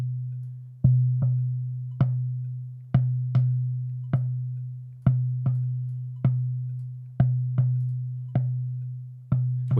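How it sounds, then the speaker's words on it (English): Percussion hit equalized down to a deep low thud sounds about a dozen times at an uneven, roughly steady pace over a sustained low drone, each hit a short muffled knock with no talking. "So let's obviously EQ it to where it's just a low thud"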